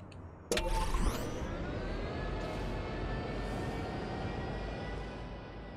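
In the Lego Star Wars Skywalker Saga video game, Padme's spaceship launches into space with a sudden loud burst, then settles into a steady engine roar with a rising whine that holds at an even level.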